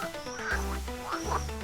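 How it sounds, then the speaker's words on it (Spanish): A frog croaks in a few short, hollow, pulsing calls, two main bursts heard close and clear with no voices over them. "Esta es una rana."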